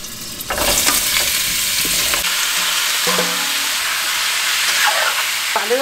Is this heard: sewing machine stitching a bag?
no